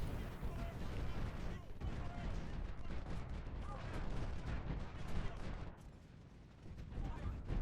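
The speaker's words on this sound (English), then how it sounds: "supporting artillery on him." Dense, continuous battlefield din from a Civil War strategy game at the Battle of Antietam: artillery fire with overlapping booms and crackling gunfire, loud and steady throughout, dipping briefly near the end before swelling again.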